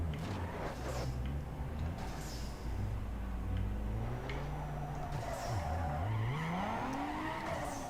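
An Infiniti car in Need for Speed Underground 2 runs with its engine droning and rising and falling in pitch as tires squeal and skid through turns, a continuous moderate game soundtrack with no talking.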